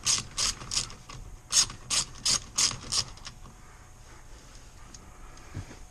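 A ratchet on an 8mm socket with an extension loosens steering wheel airbag bolts, giving two quick runs of crisp, rhythmic clicking bursts up close, then quieter handling noises.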